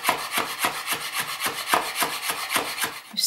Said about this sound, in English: Holding the leaves tightly with your fingers, slice them in super thin strips.